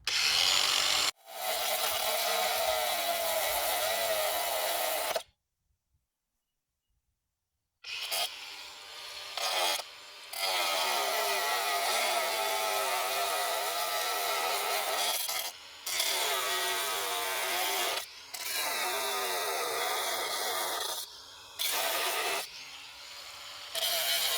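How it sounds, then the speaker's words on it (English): An angle grinder cutting the handle off an Earthway seeder, a harsh continuous grinding whine in long close bursts with a few brief pauses and one silent gap. "get your grinder and cut the handle off"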